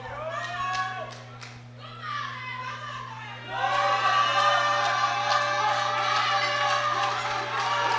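A crowd shouts and cheers at a world sub-junior and junior powerlifting championship in the men's 83 kg classic event, swelling louder partway through over a constant low electrical hum.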